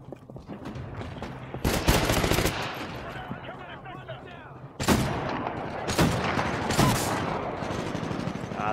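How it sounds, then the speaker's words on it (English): Automatic weapons fire in Titanfall comes in several loud bursts of rapid shots, with longer volleys around the middle and later stretches over a steady background of game noise, and a voice talking at times. "Oh, that's our guy shooting."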